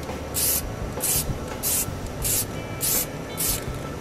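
Six short bursts of aerosol spray hiss in an even rhythm, close and loud, as strippable rubber coating is sprayed onto a car.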